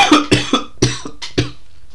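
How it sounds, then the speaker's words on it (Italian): A man coughs in a rapid burst of five or six harsh, close, loud hacks, tapering off toward the end, with no talk around them. "questo colpo di tosse ha fatto più male a me che a voi probabilmente"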